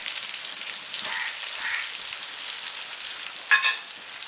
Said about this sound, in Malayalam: കുറച്ചുകൂടി മല്ലിയില ചേർത്ത് കൊടുത്ത് ഇളക്കി കൊടുത്ത് അടുപ്പിൽ നിന്നും ഇറക്കി വെക്കാം